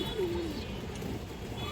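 A restless female pigeon gives one short, low coo near the start, close by, and then only quiet room noise follows.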